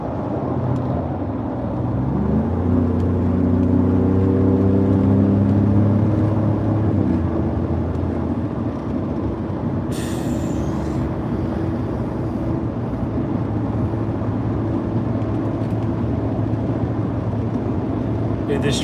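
Interior road noise of a pickup truck cruising toward West Texas, a steady loud drone of engine and tires with rising gear tones and a brief hiss partway through.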